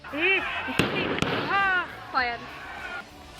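Two sharp gunshot cracks ring out close together amid agitated shouting voices during a village clash near a mosque, with the shouts continuing after.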